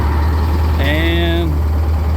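A Link-Belt LS-98 crane's engine idles steadily and loudly, and a brief whining, tonal mechanical sound rises in the middle as the master clutch is thrown in, then fades back into the engine drone.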